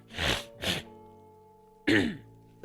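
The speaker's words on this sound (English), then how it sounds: "I gotta clear my throat." Three separate throat-clearing bursts, close and fairly loud: two quick ones in a row, a pause with faint background hum, then a stronger third.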